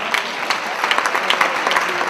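Dense applause from an audience at a women's conference in Europe, steady clapping filling the room for a couple of seconds with no break.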